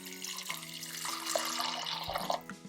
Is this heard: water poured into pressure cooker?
yes